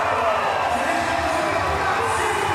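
A crowd cheers and roars at a Paralympic para powerlifting final in Paris, a sustained wash of arena noise with shouts rising above it and a commentator talking over the top.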